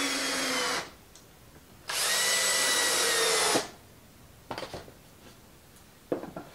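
Power drill driving screws into 2x4 lumber boards, two loud sustained whirring bursts, the second longer, followed by quieter clicks and handling knocks.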